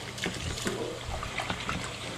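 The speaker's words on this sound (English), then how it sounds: "We're starting some water." Water runs from a tap into a sink for handwashing, a steady close trickle and splash that holds an even level throughout.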